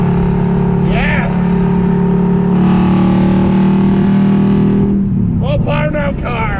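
A car engine roars loud and steady at full power, a dense droning rev that holds throughout, with people's voices shouting over it at the start and the end.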